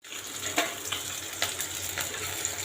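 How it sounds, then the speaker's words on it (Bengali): Potato pieces fry in hot oil with nigella seeds in a home kitchen, giving a steady, moderately loud sizzle with sharp pops and crackles scattered through it. Nobody speaks. "আলুগুলো ভাজা ভাজা হোক।"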